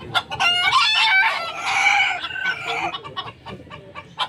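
A rooster crows loudly nearby in a long drawn-out call, followed by scattered clucks and short bird sounds.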